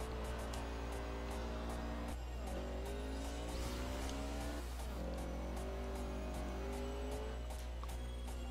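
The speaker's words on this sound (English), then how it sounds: "So I guess we're gonna have to drive the super van down there." Hippie van driven in the racing game Forza Horizon 2 on Xbox One, an engine whine rising through the gears, falling at each shift near the two- and five-second marks, steady and loud with no speech.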